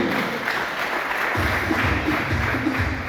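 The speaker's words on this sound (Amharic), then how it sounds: "እስኪ አጨብጭቡ።" Wedding guests clap together during a church ring ceremony, a steady crowd of applause with a low voice murmuring underneath partway through.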